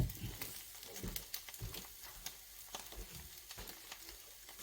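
Beaten egg frying in a hot pan beside a tortilla for a salmon roll, a faint continuous sizzle broken by soft crackles and occasional scraping knocks.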